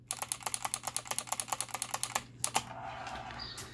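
Rapid, evenly spaced clacks come from the space bar of a SteelSeries Apex 5 keyboard, about a dozen quick presses close up, then a few slower, scattered taps fading into quiet room tone.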